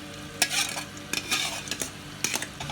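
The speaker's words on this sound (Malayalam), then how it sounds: "നമ്മുടെ വറുത്ത് വെച്ചിരിക്കുന്ന മീനിട്ട് കൊടുക്കാം" Fried fish tipped into sizzling masala in a pan and stirred, with loud bursts of scraping and clattering strokes over continuous frying.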